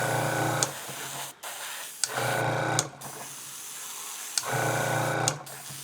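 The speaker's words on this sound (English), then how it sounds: "Once you got that down, you just start spraying." An airbrush spatters texture coating onto a vinyl top in repeated bursts of hissing spray, each lasting about a second or two and separated by brief pauses, with a mechanical hum underneath.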